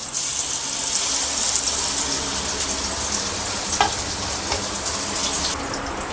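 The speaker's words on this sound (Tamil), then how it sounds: "பேன் சூடானதும் ஆயில் ஊற்றலாம். இப்போ ரெடி பண்ணி வச்சுருக்க கத்திரிக்காய் போட்டுடலாம்." Brinjal (eggplant) frying in hot oil in a pan: a steady, loud hiss and crackle of sizzling that carries throughout, easing slightly toward the end, with no talking.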